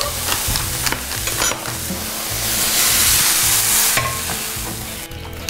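Ground taco meat crisped in a pan with a spoonful of tomato paste stirred through, a loud continuous sizzle with scraping stirring strokes, close and without talk.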